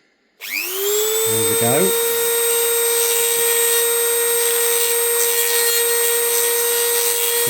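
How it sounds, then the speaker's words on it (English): An old single-speed Dremel spins up sharply and runs at full power with a loud, steady high whine while shaving metal on a 7.25-inch gauge BR Standard 2 locomotive build, with a brief voice early on. "My Dremel's got one speed now. It's that old, and that's full power."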